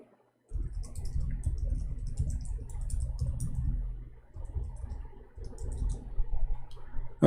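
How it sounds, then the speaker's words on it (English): Fingers tapping a computer keyboard in steady bursts of light, close clicking, pausing briefly midway and picking up again. "Oh, I was typing"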